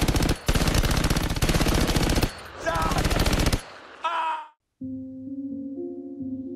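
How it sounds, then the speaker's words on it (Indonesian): Loud, dense machine-gun bursts from an action film, firing at enemies in rapid sustained volleys with brief pauses, followed by a short groan-like effect and a steady tonal drone afterward. "Tiba-tiba Roka dengan penuh amarah kembali menembaki musuh hingga tak seorang pun lolos dari muntahan pelurunya."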